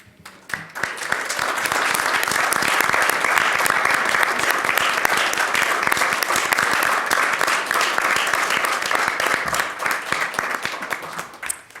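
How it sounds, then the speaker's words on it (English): A crowd at a school district governing board meeting applauds steadily, many hands clapping loudly and evenly for around eleven seconds before the clapping trails off. "give them a very well-deserved round of applause"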